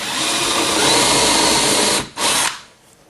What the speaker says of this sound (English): that's where I'll drill that hole